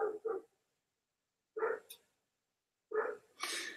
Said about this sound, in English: I can't really do anything about that dog right now.